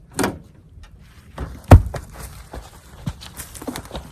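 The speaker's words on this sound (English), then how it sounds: "You heard that clunk when it hit that steel plate?" A heavy 70-pound knotty log drops onto a steel plate with one loud, dull clunk, framed by softer shuffling and knocks.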